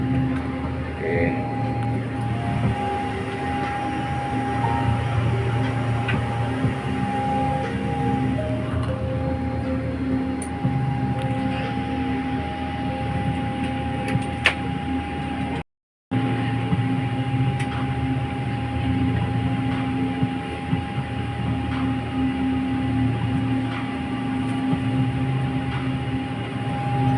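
Airplane cabin in flight on a trip to Kuala Lumpur: a steady, loud engine drone and rushing hum that runs throughout, with a brief cutout midway and occasional quiet clicks.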